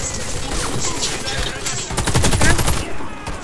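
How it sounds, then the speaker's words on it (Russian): Video game combat with a grenade blast and bursts of rapid gunfire, loud and dense, with steady rattling shots crowding the mix throughout. "Осторожно, граната!"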